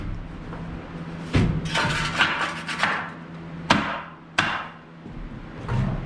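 Hammer blows tapping a freshly cut wooden door into its frame: about half a dozen sharp, close knocks at irregular intervals, with some scraping and rattling of wood between strikes.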